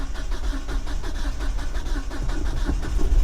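A carbureted Ram 50 mini truck engine cranks and catches, then settles into a steady, fairly loud idle heard close up outdoors.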